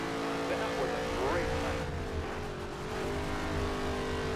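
A stock car in NASCAR Heat 3 racing as the driver lifts off the throttle, the engine's steady droning note easing and dipping in pitch, with a voice talking over the engine noise.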